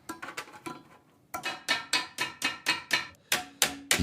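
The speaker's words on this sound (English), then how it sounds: "Now, I just want to clamp it on and just go around with a hammer and dolly." A copper sheet for a 1950s-style kitchen sink is shaped with a hammer and dolly, heard as a close run of sharp, ringing metallic blows that start sparse and uneven, then settle into a steady, rapid rhythm.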